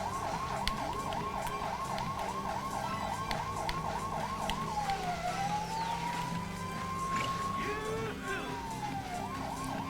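Police car siren in the LEGO City Undercover video game, a rapid warbling wail that switches to slower rising and falling sweeps, over a steady engine hum.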